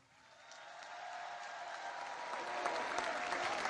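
Audience applause at a political speech in Poland, swelling from a light start into steady, dense clapping that carries on at a moderate level.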